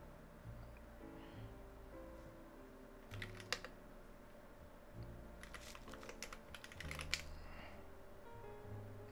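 Typing on a computer keyboard during QMK firmware testing, several quick bursts of clicky keystrokes over a steady low hum, close but faint, with no talking.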